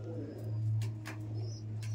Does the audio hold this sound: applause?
no